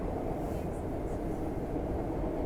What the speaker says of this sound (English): I hear the train coming. It's rolling.